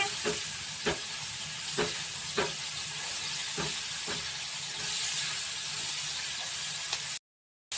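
Winter vegetables fry with turmeric and salt in a pan, making a continuous near hiss punctuated by several sharp spatula taps before the sound cuts off abruptly.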